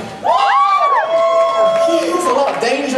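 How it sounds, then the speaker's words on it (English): A live street-show audience cheers and whoops for fancy juggling, a loud, close burst of mixed shouts and voices that holds steady for a few seconds. "Cheer for fancy juggling."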